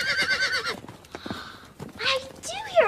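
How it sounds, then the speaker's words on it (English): Horses near a castle give a loud, wavering whinny up close, followed by soft hoof clip-clops and another shorter neigh, with voices talking in between. "I do hear horses right now."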